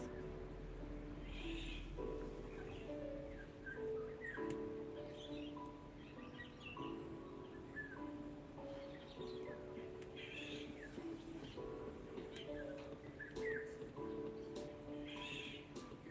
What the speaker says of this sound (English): there's that one bird that's going, wah!